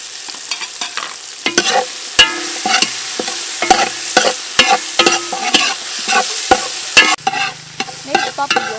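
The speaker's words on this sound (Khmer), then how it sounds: "យើងដាក់ខ្ទឹមក្រហមហើយនឹងម្ទេសចូល" Shallots and chili frying in oil in a pot over a village fire, stirred with irregular metallic scrapes and knocks over a steady close sizzle. No one speaks, and the frying swells louder near the end.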